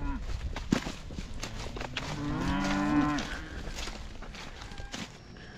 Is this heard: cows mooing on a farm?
yes